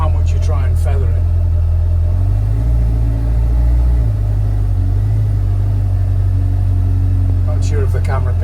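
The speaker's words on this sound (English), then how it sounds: "when you put it in reverse, let off the handbrake, you really got to feather the gas, and it jumps back quite severely" A 2024 Kawasaki Ridge XR side-by-side shifting into reverse and lurching backward, its engine a loud, steady low rumble with a brief surge, while someone talks over it close by.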